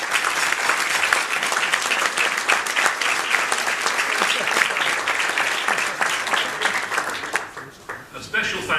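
Audience applause at a 2011 community heroes awards evening at Formby Hall, sustained dense clapping from a crowd that fades out near the end.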